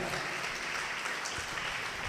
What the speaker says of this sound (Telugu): గట్టిగా చప్పట్లు కొట్టండి గట్టి కొట్టాలి గట్టిగా